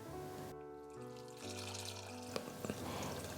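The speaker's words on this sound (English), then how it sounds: "Return the beans to a pot and cover again with fresh water." Fresh water is poured from a tap over azuki beans in a pot: a quiet, continuous splashing stream that lasts a few seconds.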